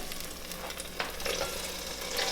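Half a garden jalapeno and an onion sizzling in hot olive oil in a pot, a close, steady hiss of frying with a few soft stirring scrapes and no voices.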